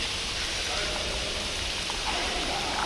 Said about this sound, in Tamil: சரியாக மழை பெய்யுது பாருங்கள்